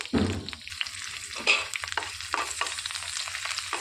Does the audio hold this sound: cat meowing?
no